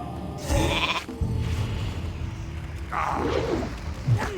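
A few sheep bleats from a Polymorph spell sound among World of Warcraft Classic game effects, one drawn-out bleat early and more near the end, moderately loud over a busy background.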